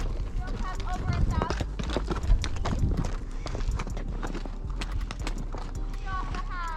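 Horses being ridden through the desert, hooves clip-clopping in a steady walking rhythm close by, with people talking over the hoofbeats throughout.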